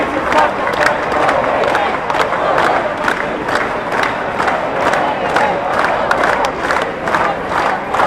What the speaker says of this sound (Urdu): لوگ نعرے لگا رہے ہیں.